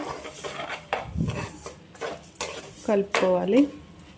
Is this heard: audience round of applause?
no